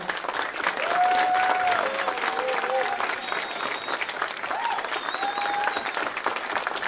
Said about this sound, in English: Please give a warm round of applause for Mother Kong.